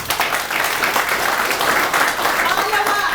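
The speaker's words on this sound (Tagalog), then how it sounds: "palakpak." Audience applause at a network marketing seminar in the Philippines, a dense steady wash of clapping lasting the whole stretch, fairly loud and even with no voice over it.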